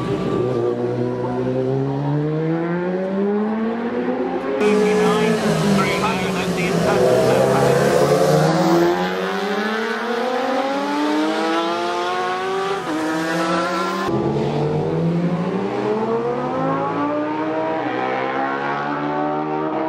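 Racing motorcycles at full throttle at the Isle of Man TT, loud engine whine rising and falling in pitch as bikes scream past close by, with a commentator's voice over the roar.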